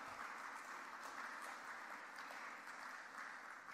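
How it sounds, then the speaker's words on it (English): An audience applauds at a university athletics awards show: dense, steady clapping from many hands, fairly distant and even throughout. "Give yourselves a round of applause."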